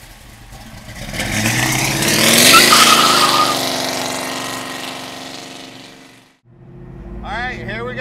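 A 1967 Ford Mustang Fastback engine revs up to a loud roar, then falls back to a rumbling idle before briefly picking up again, close by.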